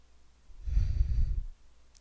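One slow, soft exhale during a chair yoga class, a breathy rush lasting about a second and heard alone and close.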